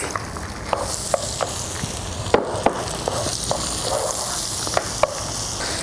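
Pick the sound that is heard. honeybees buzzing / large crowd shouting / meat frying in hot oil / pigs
meat frying in hot oil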